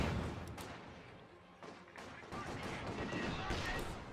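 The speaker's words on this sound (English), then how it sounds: "we hear the Maxim machine gun getting cleared out over here on the right-hand side" Maxim machine gun fire in the strategy game Company of Heroes 2, sustained bursts of mid-distance gunfire with scattered explosive crackle, running under a commentator's continuous talk.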